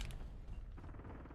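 Armor plate being fitted in the video game Warzone: a short mechanical creak and clatter with a low rumble beneath, lasting about a second, heard alone.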